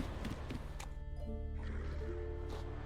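Horse whinnies and hoofbeats in the video game The Witcher 3: Wild Hunt, layered over a steady low hum and a musical backdrop, moderately loud throughout.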